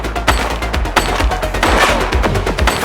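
Heavy automatic gunfire in The Precinct, a police sandbox game, with loud, close, rapid shots that overlap in a continuous volley and no voices.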